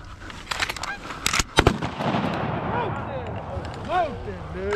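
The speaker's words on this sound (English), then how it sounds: "Jason, please don't shoot over here again" Several sharp shotgun blasts ring out close by during a goose hunt on a small pond, followed by honking geese and shouting hunters.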